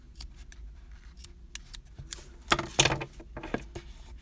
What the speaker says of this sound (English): And we'll cut the ends.